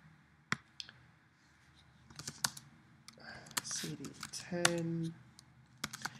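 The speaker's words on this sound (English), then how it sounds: "when I'm typing in everything I'm doing here, I'm hitting the tab key" Commands typed on a computer keyboard, scattered sharp key clicks with short bursts and pauses, close by, and someone speaking over part of it.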